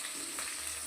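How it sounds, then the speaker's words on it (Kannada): Mustard seeds crackling and sizzling in hot oil for a tempering, with curry leaves going in, a steady close frying hiss with no talk. "ಸಾಸಿವೆ ಚಟ ಚಟ ಅಂದಮೇಲೆ ನಾವು ನಿಂತಬೇಕು. ಒಗ್ಗರಣೆ ಹಾಕ್ಬೇಕು."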